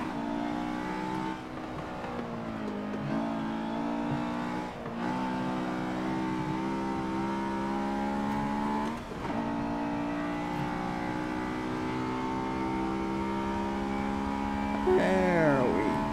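Race car engine in the Forza 7 video game, played with a wheel and shifter, revving steadily with rising and falling pitch through gear shifts, loud and continuous with a brief tire squeal near the end.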